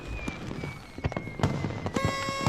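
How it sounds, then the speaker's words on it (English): New Year fireworks burst in a quick irregular series of sharp cracks and pops, some close and loud, against a low background hum with a faint steady tone. "Blow up the fireworks."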